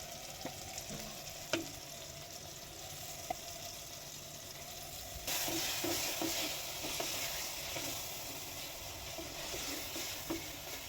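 A ground paste of onion, tomato, pepper and cumin being sautéed in a pan for chicken kuzhambu, with steady frying that grows louder about halfway through, plus occasional utensil taps and no voices.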